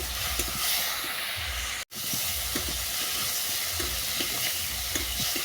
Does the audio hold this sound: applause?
no